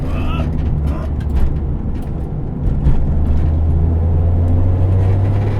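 A Honda Civic EG hatchback with a K24 engine swap drives on, its engine a steady loud drone with a low rumble that swells after a brief dip, as during a gear change.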